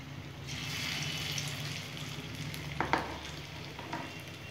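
Pepper kofta balls frying in hot oil for curry, a steady close sizzle with a few brief clatters of stirring near the end.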